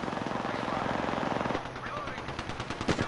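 Rapid bursts of automatic gunfire from Apex Legends rattle continuously, dense and loud, with the firing thinning into scattered shots midway while voices talk over the action.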